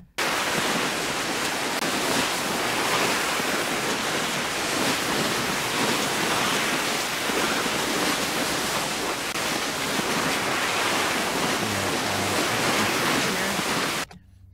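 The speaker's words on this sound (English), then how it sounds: "this one was my fun one. It's snow scrapes." Snow scrapes sound effect made for a game, built from layered snowboarding stops moving left to right: a continuous loud hissing, rushing scrape that runs almost fourteen seconds and cuts off abruptly.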